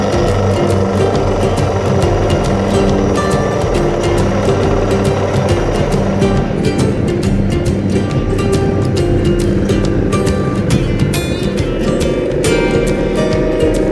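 A motorcycle ridden along a road during a moto camping trip, its steady engine drone and wind rush loud and continuous throughout, with no talking.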